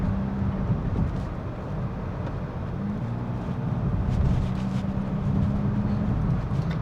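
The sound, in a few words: Honda Amaze car accelerating on road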